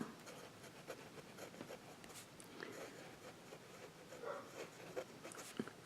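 A fountain pen with an extra fine nib scratches faintly across paper in short, close strokes, a soft, quiet scribbling with no talk.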